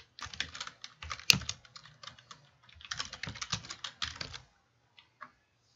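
Keys clatter on a computer keyboard as an email address and password are entered, bursts of close, fast typing separated by short pauses, with one sharper key strike, ending in a few isolated taps.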